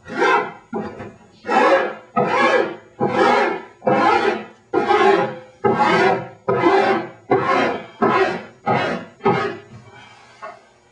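Coarse, aggressive file rasping along an edge in about a dozen long, even back-and-forth strokes, loud and close, the final stroke fading out, with no talking.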